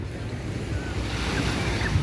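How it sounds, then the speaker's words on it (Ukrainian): Sea waves wash steadily onto the shore along the Saranda seafront in Albania, a loud, continuous roar of surf mixed with wind buffeting the microphone and no voices. "І трохи звуків води для вас."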